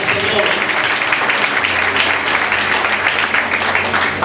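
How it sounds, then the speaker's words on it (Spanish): Applause from a church congregation fills the space, a loud, steady wash of many hands clapping with some voices mixed in throughout. "Vamos a darle fuerte el aplauso"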